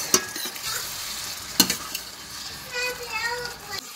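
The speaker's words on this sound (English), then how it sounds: "Now I'm going to add my rice. And just give it a mix." Rice being stirred with spices in a hot frying pan, a sizzling bed with two sharp scraping clatters of the spoon and softer shuffling strokes, close up with no talk.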